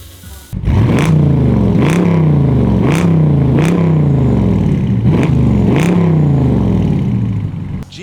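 Dodge Charger fitted with a G exhaust system and 5-inch carbon fiber tips, revved hard in repeated bursts, about five sharp throttle blips rising and falling over a loud, close, rumbling idle.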